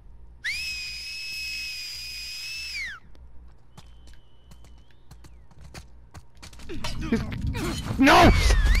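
An enemy in The Last of Us Part II gives a clear, sustained signalling whistle that rises and then holds, followed by footsteps, thuds and a strained groan in a forest setting.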